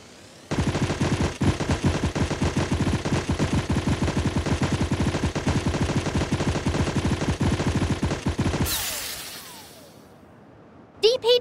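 Sustained rapid automatic fire from the dueling gun in the mobile game Sausage Man, a dense, steady burst lasting about eight seconds, followed by a fading whoosh and a couple of short clicks at the end.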